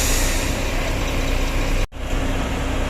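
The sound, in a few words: bus engine as a bus departs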